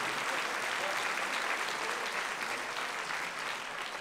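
A concert hall audience applauds at a folk ensemble's anniversary performance, with dense, sustained clapping that holds at an even level throughout.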